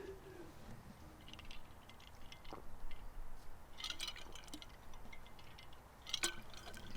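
A singer drinks water during an outdoor acoustic session in the woods: soft sips, liquid gulps and small clicks, quiet and close, with faint birdsong around.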